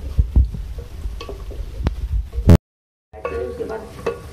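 Beef keema frying with yogurt in a pan gives a steady sizzle with stirring scrapes and a few clunks, then briefly goes silent before the sizzling resumes.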